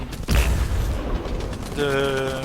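A tank cannon fires in the War Thunder video game on the Karelia map, one sharp loud report followed by rumbling battle noise, then a steady engine-like drone at the end, with faint talk underneath.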